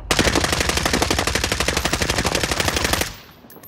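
Rapid automatic gunfire from Call of Duty: Modern Warfare, a loud, close, continuous burst of about three seconds that cuts off abruptly into quiet.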